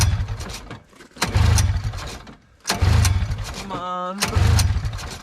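A 1974–75 Arctic Cat Panther 440 snowmobile engine cranks over and over without catching, in loud churning bursts broken by short pauses, with a voice speaking briefly between attempts.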